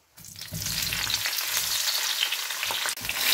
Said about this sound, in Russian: Так, баклажаны мои обжарили.